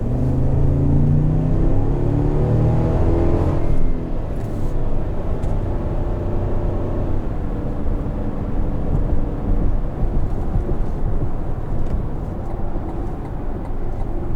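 A 2021 Cadillac Escalade ESV Platinum engine surges loudly as it accelerates, a deep, steady rumble that rises in its first seconds and then settles into a continuous drone of engine and road noise, with no talking.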